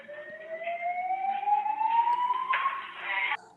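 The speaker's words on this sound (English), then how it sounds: "now the fire alarm goes off" A fire alarm blares in recorded footage from the Las Vegas shooting, a loud rising electronic wail sweeping steadily upward, then a harsher buzzing burst near the end before it cuts off.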